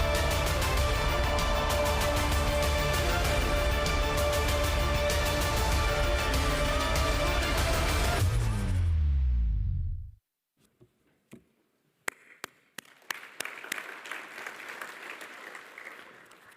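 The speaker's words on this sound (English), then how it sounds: "Delight for the British crowd. Huge celebrations here, and rightly so." Stadium crowd cheering and applauding loudly at a track cycling event, a dense roar of clapping that cuts off sharply, leaving scattered faint clicks and a low murmur.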